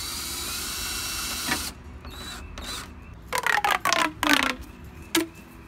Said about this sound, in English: I'm gonna change out my bit for my drill and drill this in